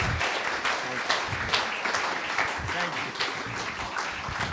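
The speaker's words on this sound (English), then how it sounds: "Round of applause for the Reverend, please" Audience clapping for a reverend at a UK community event on Black activism, steady and fairly loud with individual claps standing out, and voices mixed in underneath.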